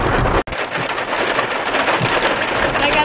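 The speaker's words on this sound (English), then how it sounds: "I love being in a car when it's raining like this." Steady heavy rain drums on a car roof as a dense, hissing patter, interrupted once by a brief dropout near the start.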